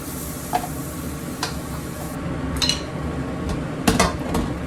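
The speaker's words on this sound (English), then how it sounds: "That's the fond coming up from the pan." A utensil scrapes browned fond from the bottom of a pan while cooking shrimp with lobster sauce, giving scattered scraping clicks and taps over a low sizzling background, close and moderately loud.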